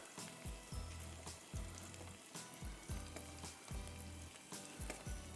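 Ingredients for dandan noodles sauteing in a hot pan, a steady bright sizzle broken by regular scraping and stirring strokes roughly every half second, close and fairly loud with no talk.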